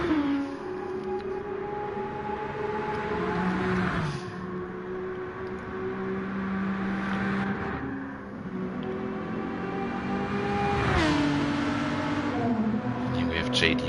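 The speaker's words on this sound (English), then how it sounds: "Here we have JD on the Mulsanne in his Aston Martin" An Aston Martin GT3 race car at Le Mans runs flat out along the Mulsanne straight, its engine holding a steady high drone with gear-change dips, loud and continuous beneath commentary.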